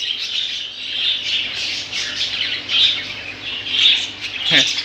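Many budgerigars squawk and chirp at once inside a busy pet shop, sharp shrill calls overlapping continuously and fairly close.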